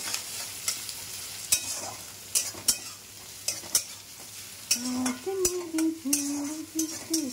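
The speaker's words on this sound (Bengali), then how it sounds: "এই যে ভাতটা হচ্ছে দেখো গবাট গবাট করে ফুটছে" Rice boils hard in a pot on the stove, giving off scattered irregular pops and bubbling over a low steady kitchen hiss.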